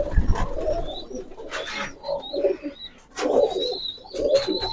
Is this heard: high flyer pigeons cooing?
yes